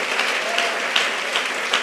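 A church congregation claps steadily, a dense wash of applause from many hands filling the room.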